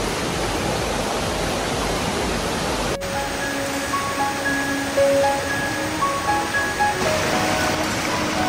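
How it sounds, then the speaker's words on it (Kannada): Koodlu Theertha waterfall in the Western Ghats of Karnataka, a steady broadband roar of falling water heard continuously from moderate distance, with faint tonal sounds joining midway. "ಸೊ ಅಲ್ಲೇ ಕಾಣಿಸ್ತಿದೆ ನೋಡಿ ಫಾಲ್ಸ್"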